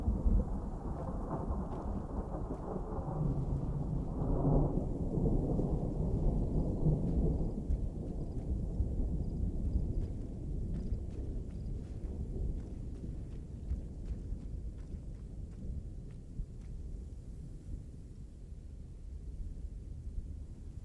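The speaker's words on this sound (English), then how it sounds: "I still hear thunder." Thunder in the video game Warlords Redux rumbles low and continuously, swelling early and then settling into a steady rolling roar with faint crackle over the top.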